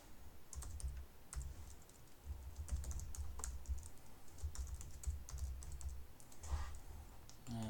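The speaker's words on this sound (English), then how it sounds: "they can type in, the vehicle make and model here" Quiet, steady tapping of keys on a computer keyboard, with irregular clicks and short pauses, as vehicle information is entered into a task sheet.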